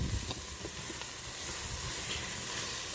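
A large onion sizzling in a pan for taco soup, a broad steady hiss close by with faint crackles, no talking.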